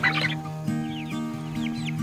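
Chickens cluck close by in a pen, short repeated clucks and a few higher chirps over a steady low hum, no voices.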